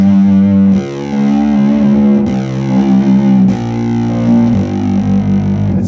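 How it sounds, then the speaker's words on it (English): An electric guitar played through a Nordstrand/Rocket Surgeon Seratone fuzz pedal, loud and saturated, with sustained bent notes whose pitch glides and holds across several phrases. "I'm able to bend the strings and hold out pitches, and the distortion really holds up"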